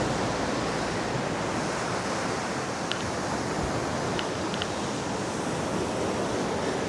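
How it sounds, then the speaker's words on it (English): Rough surf and choppy waves wash steadily against a Gulf pier on a windy day, a continuous broadband roar with no distinct breaks, wind mixed in. "Rough surf."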